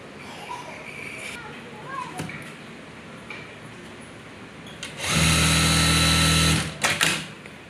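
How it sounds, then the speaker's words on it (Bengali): A plain sewing machine stitching cloth runs in one loud, continuous whir lasting about a second and a half, preceded by quiet handling noises and faint background sounds. "আমি সুইং করতেছি অর্থাৎ সেলাই করতেছি"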